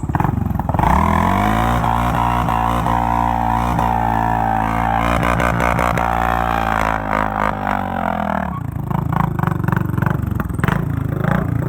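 A loud motorcycle engine roars continuously during a burnout, revving up and holding a high pitch before dropping back to a rough, rumbling idle.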